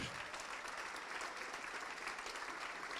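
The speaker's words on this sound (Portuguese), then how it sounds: "vamos aplaudir ao nome do Senhor" Church congregation applauding in a worship service, a continuous wash of many hands clapping, heard faint and distant throughout.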